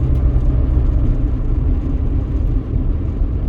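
A car cruises in fifth gear at about 50 mph, its engine and road noise forming a steady, loud, low rumble that stays even throughout with no talking.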